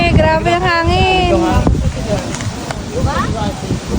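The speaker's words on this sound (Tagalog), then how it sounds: "grabe ang hangin" Strong, gusty wind buffets the microphone outdoors at a picnic grove in Tagaytay, a low roaring rumble under people talking throughout.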